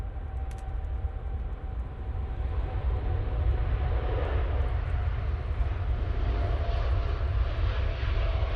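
TUI Dreamliner airliner at Manchester Airport, a low, broad engine rumble with a steady roar that builds slightly and holds, heard from a distance without any talk.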